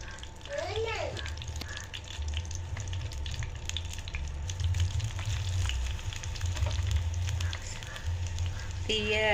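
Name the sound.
beet, carrot and orange peel frying in boiling coconut oil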